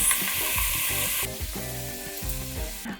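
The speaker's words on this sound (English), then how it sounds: "You want to probably brown the lamb over a high heat" Lamb browning in a pot over high heat, a loud sizzle that drops to a quieter steady frying hiss partway through, with a low hum beneath.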